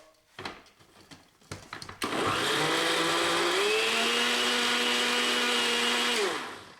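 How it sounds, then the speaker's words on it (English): A blender whirs through a blueberry protein shake, starting after a few clunks and taps, then a loud, steady motor roar that shifts pitch slightly as the contents churn before winding down at the end. "Okay, blend it up."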